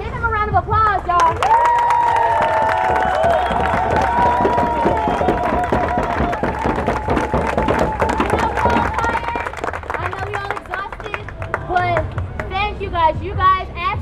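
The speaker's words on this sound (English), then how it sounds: "give them a round of applause, y'all" A crowd at a Black Lives Matter and equality protest in Seattle claps and cheers loudly for several seconds, with voices and shouts mixed into the applause before it thins out.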